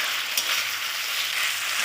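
Elephant foot yam and sea crab sautéing in hot oil in a pan, a steady close sizzling hiss that holds even and unbroken throughout, with no one talking.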